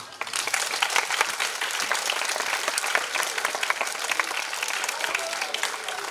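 Hundreds of schoolchildren give a music group a long, loud burst of applause at a school concert, dense steady clapping filling the whole stretch without pause.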